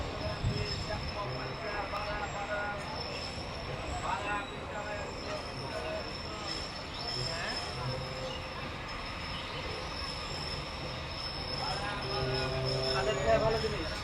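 A commuter express train running between Rajshahi and Rohanpur, moving slowly, gives a steady rumble of wheels and carriages close by, with faint squeals and rattles that swell near the end.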